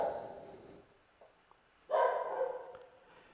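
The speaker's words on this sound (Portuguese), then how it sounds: "desculpem aí o latido dos cachorros" Two bursts of dog barking, faint and somewhat distant, separated by a quiet pause, with no talking.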